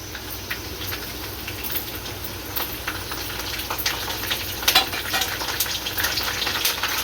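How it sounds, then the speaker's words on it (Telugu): Mustard seeds, cumin, dried red chillies, split urad dal and curry leaves crackle and sizzle in hot oil, a steady close frying hiss with scattered pops throughout. "ఆయిల్ ఎక్కిందండి. ఇందులో పోపులు వేసుకుందాం."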